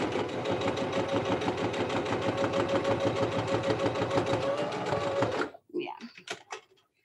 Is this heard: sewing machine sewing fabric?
yes